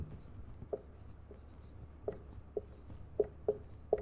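Writing on a board during a Sanskrit class lesson, with quiet scratching and a series of sharp tapping strokes at an uneven pace, heard alone and close by.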